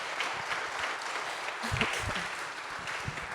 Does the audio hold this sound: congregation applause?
yes